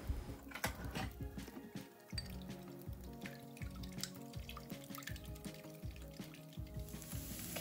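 Steady crackling sizzle of bacon frying in a pan, with irregular pops and drips over a low background hum, no voices.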